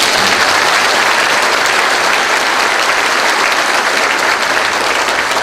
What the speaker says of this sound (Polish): To jest miejsce na brawa w tym momencie.